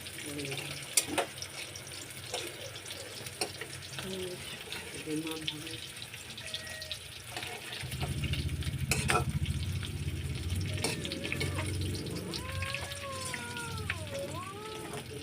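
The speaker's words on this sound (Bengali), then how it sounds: "বড়াগুলো উল্টে দিই" Fish roe fritters frying in a pan, a low steady sizzle under someone talking, with scattered clicks and spatula scrapes, and the frying growing fuller and louder partway through as the fritters are turned.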